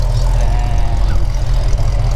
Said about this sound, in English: Sounds like a V8 now.